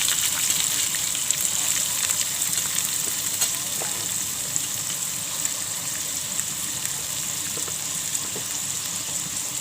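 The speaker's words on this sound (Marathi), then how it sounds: "लसूण भाजली आहे आता कांदा घालून घेते" Onion goes into garlic already frying in a pan for a Marathi-style red amaranth vegetable dish, giving a steady, loud sizzle that crackles evenly throughout with no talking.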